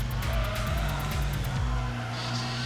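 A Corvette in a racing video game drives with a steady engine roar, shifting through gears as the tires squeal and skid through a turn, loud and continuous throughout.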